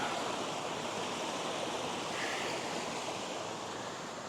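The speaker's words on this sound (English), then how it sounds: "I'm going to cross the river here and have a drink of water" Fast, cold river water flows in a steady, even rush, close and continuous with no voices.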